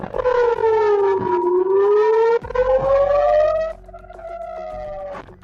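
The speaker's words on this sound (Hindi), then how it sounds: "जिसकी वजह से यहां पर हवाई हमलों के सायरन बजने लगे।" Air raid sirens wail across northern Israel, a loud, close civil defense siren rising and falling in long sweeping tones, with a second layer of siren sound overlapping near the end.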